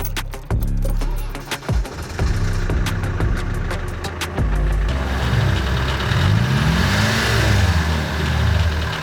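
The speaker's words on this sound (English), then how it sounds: "There is our Defender engine." A Land Rover Defender truck engine idles and revs, a loud mid-pitched rumble with sharp throttle blips early on, then a steady running drone with shifting tone.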